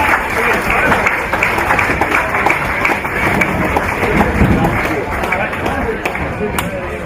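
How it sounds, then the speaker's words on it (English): A crowd at a rodeo awards presentation function gives a sustained round of applause, steady dense clapping with some cheering and babble mixed in, loud and continuous throughout. "Give them a round of applause"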